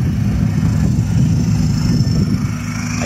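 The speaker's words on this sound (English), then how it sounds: "I can't get over the sound of the exhaust too, it's absolutely amazing." A 2014 Volkswagen Golf Wagon TDI with a six-speed gearbox idles nearby, giving a steady, loud low diesel rumble from the engine and exhaust that holds evenly throughout with no talk.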